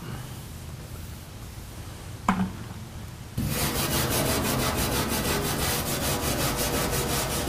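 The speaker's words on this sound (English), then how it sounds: "Stainless steel wire brush is what you want to use." A stainless steel wire brush scrubs rust in steady, rapid back-and-forth strokes, close and fairly loud, starting after a short quiet lead-in with one brief knock.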